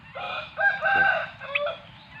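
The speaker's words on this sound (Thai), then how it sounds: "มีเป็ดมีไก่มีไก่ง่วงเนาะ" Roosters crow amid chickens on a rural Thai farm with bamboo clumps nearby. Two or three drawn-out crows rise over a low background murmur, fairly close and clear.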